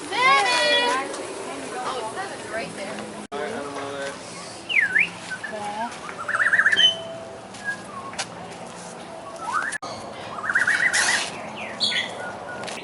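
Parrot calls at a nature park, sharp squawks and whistles scattered among chatter, with children and adults talking throughout and birds close by.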